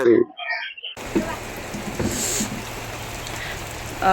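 Heavy rain pours steadily, a dense close hiss that starts abruptly after a second and continues evenly, with a voice talking over it.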